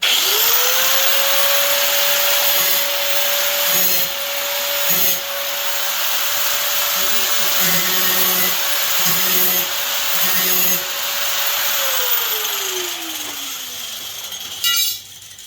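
A cheap Hyper Tough angle grinder deburring a metal shower door: the motor spins up to a loud steady whine, the disc bites in repeated short grinding passes, then the motor winds down.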